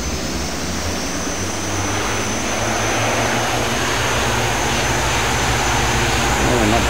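In Microsoft Flight Simulator, a Twin Otter amphibious plane's engines roar steadily on the water during a takeoff run, with a broad rushing wash of water and a high engine whine, continuous and loud.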